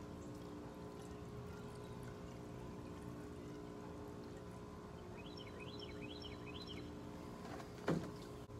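Water poured into a 5-gallon bucket watering container tomato plants: a steady, quiet trickle and splash runs throughout, ending with a brief knock near the close.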